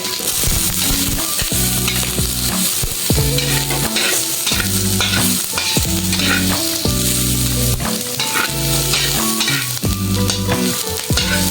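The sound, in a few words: ginger being stir-fried and sizzling in a pan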